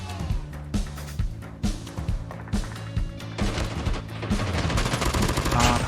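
Rapid automatic gunfire in the mobile shooter Call of Duty Mobile, repeated bursts of shots with a brief gap between them, growing denser and louder toward the end.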